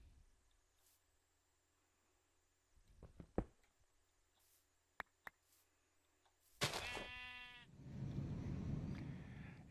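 A sheep bleats loudly in the Minecraft FTB modpack, a wavering cry that follows a few sharp knocks and thuds, then gives way to a rumbling noise.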